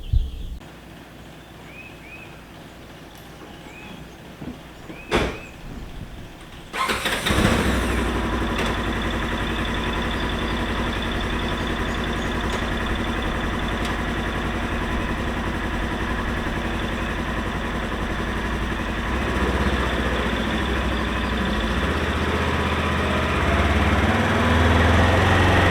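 A Polaris Ranger engine cranks and catches after a few faint taps and clicks, then idles steadily and loudly for the rest of the time, a constant low rumble that swells slightly near the end.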